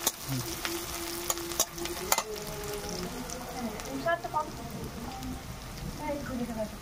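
Fried onion stirred into hot oil with dry red chilli and panch phoron for a tilapia fish curry, giving a steady close sizzle with scraping stir clicks; faint voices and clatter sit beneath.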